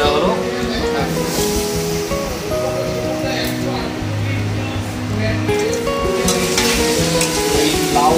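Bitter gourd and bottle gourd fry in a pan with a steady, close sizzle, while stirring and background music carry on throughout.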